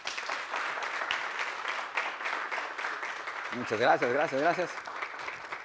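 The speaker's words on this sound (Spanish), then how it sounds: "aplauso." Audience applause for a guest speaker at a public science talk; a steady patter of clapping throughout, with a voice speaking briefly over it partway through.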